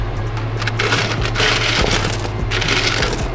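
Sticky quarters scooped by hand out of a gumball vending machine, a dense, continuous jingle and clatter of coins sliding against each other and metal, loud and close over a low steady hum.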